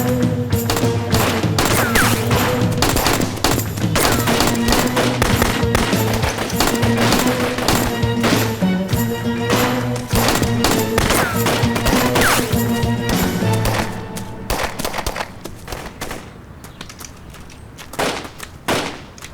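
Rapid, continuous bursts of gunfire crackle loudly for a long stretch, then thin out into scattered shots before fading.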